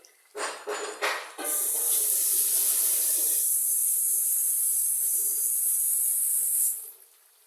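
Water poured into a hot pan of frying meat in a home kitchen gives a few sharp sizzles, then a loud sustained hiss of steam for several seconds before it quickly dies away.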